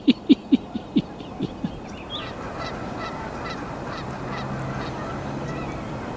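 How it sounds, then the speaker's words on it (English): A European starling calls in a burst of sharp, close chirps at the start, then fainter scattered notes continue over a steady outdoor background hiss. "It's European starling, one of the first of the migrating birds to return."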